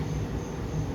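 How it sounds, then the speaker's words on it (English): Pantherian roller coaster train at Kings Dominion rolling along the track, a steady, fairly loud low rumble of wheels and cars with a faint squeal, continuous with no speech. "Here goes another train."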